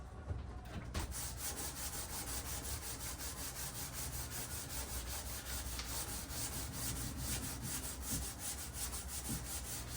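A wood veneer edge is sanded by hand in steady, rapid back-and-forth rubbing strokes, close and continuous for the whole stretch with no talk.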